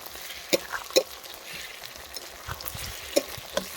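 Ground spice paste of dried chilli, cumin, garlic and ginger being slowly sautéed with fried onions in a pan for a goat trotter curry, a soft continuous fry broken by a few sharp spatula clinks and scrapes.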